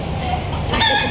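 A chicken outdoors lets out a loud, close cluck that rises into a short squawking call near the end, alone without talk.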